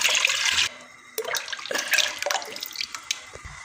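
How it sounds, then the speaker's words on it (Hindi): Tamarind pulp poured into a kadhai for imli chutney, a wet splashing pour with bursts of liquid and dripping, fairly close and clear with no talking over it. "ये जो मैंने इमली का गूदा निकाला ना, ये इसमें मैं डाल दूँगी"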